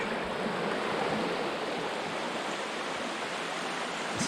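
A 30-foot waterfall in Muddy Creek Gorge, Pennsylvania, roaring as a dense, continuous rush of falling water heard close and loud, unbroken for the whole stretch with no voices.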